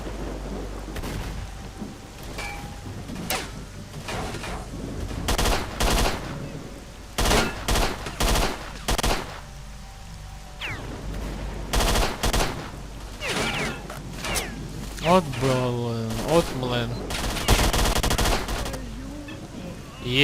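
Assault rifle fire in S.T.A.L.K.E.R.: Shadow of Chernobyl comes in scattered short bursts and single cracks, moderately loud, spread over a quiet stretch with a brief voice near the end.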